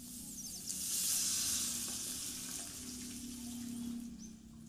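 Garlic and onion sauté in hot oil with a soft, continuous sizzle and crackle, fairly faint, alongside a low steady hum and occasional light stirring noises.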